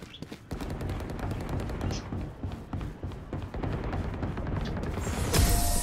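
Gunshots in a tactical shooter video game, a dense run of sharp rapid shots and bursts with thuds, close and loud, ending in a louder blast of noise.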